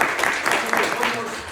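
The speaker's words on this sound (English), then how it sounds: "let's give Rick a round of applause" Brief burst of audience clapping at a legislative forum in Jefferson, Iowa, a dense, even patter of many hands at moderate volume.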